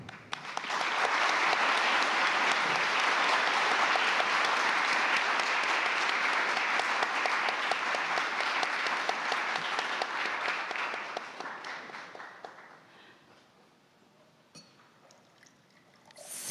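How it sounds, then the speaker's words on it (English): Audience applause at a G20 high-level seminar on financial innovation in Fukuoka, a steady hall full of clapping that holds for about ten seconds, then tapers off into scattered claps and quiet. "Please give him a big round of applause."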